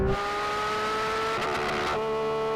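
Car engine held at steady high revs with strong harmonic whine, pulled hard in third gear, loud and close with a slight pitch shift near the end and no talk.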